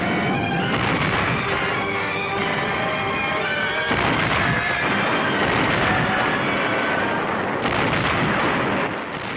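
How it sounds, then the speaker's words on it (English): 155mm howitzer artillery fire in a wartime Pacific island battle, heavy continuous booming and rumbling barrage, loud and dense with overlapping blasts under a droning background. "the Corps artillery had landed its 155mm howitzers"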